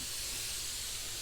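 A spray gun lays coats of candy paint in a continuous, loud, close hiss that lasts the whole brief moment.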